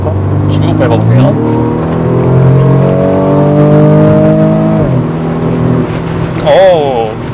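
A BMW M235i xDrive Gran Coupe with a 305 hp gasoline engine accelerates hard at full throttle, its loud engine note climbing steadily through a gear change, with voices speaking briefly near the end.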